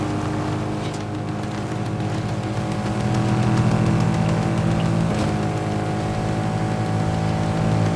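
A car driving in Fortnite on PS5, a loud continuous engine drone that holds steady and swells slightly partway through, with no speech over it.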